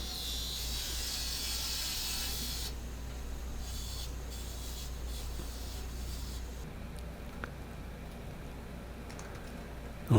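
Steady hissing rasp of sanding on a wooden whiskey smoker, a continuous even scratch that thins partway through and then carries on at a similar level, with no speech over it.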